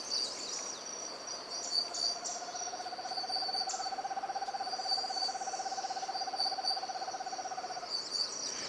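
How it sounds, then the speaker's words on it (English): Evening in an Oaxacan tropical forest: a long, steady whistled bird or owl call holds for several seconds over a constant high buzz of insects and crickets, with faint chirps scattered behind. "And the birds of evening in the Oaxacan tropical forest."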